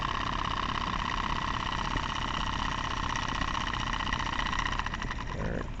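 The PMR No. 3 plant engine runs steadily in reverse at light throttle, a loud continuous mechanical drone with a rapid rhythmic chuff and knock that holds at the same level throughout.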